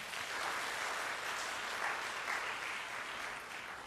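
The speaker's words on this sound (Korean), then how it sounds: "박수로 격려하겠습니다" A church congregation claps during a Sunday worship service, an even, unbroken patter of many hands heard at a moderate distance with no talking over it.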